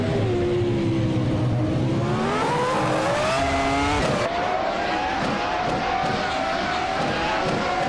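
Race cars in a racing video game roar loudly, their engine notes climbing in pitch together before an abrupt gear change and renewed whine, with a faint voice underneath.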